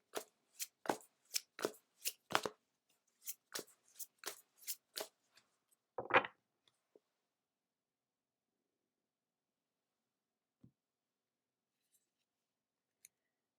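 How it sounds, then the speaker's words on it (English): Angel Wisdom Tarot cards being shuffled and handled, a run of crisp, close riffling snaps over about six seconds, then a short slide and near silence with a few faint taps. "we'll pull the last card from the Angel Wisdom Tarot deck"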